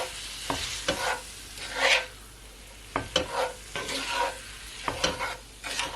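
Ground beef for tacos sizzles in a pan while a utensil stirs and scrapes it, giving several sharp knocks and scrapes over a steady frying hiss.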